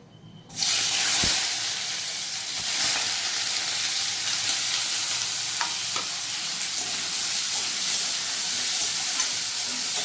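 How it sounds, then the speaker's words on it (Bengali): After a brief quiet moment, a sudden burst of sizzling as raw tomato hits the pan, settling into a steady frying hiss with faint scraping. "কাঁচা টমেটোটা একটুখানি ভাজা ভাজা করে নেবে তোমরা।"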